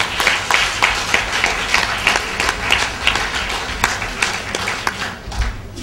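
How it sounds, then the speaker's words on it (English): A school ceremony audience at Independent City Primary School applauds its students: dense, steady clapping from many hands with sharp individual claps standing out, loud and sustained throughout without a break. "Will you give them a big clap"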